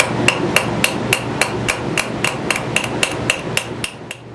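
A hammer rings sharply on a metal bar forged over the anvil edge, blacksmithing a sliding bolt latch, about two strikes per second in a steady, close, bright rhythm.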